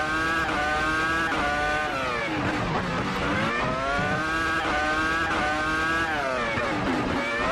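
A Williams FW26 Formula One car screams around the Canadian Grand Prix circuit in a racing game, its high-revving engine loud and close throughout, pitch climbing and dropping with gear changes and braking.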